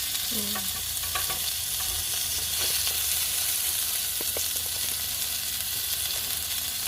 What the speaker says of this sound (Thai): เห็ดปัดเนย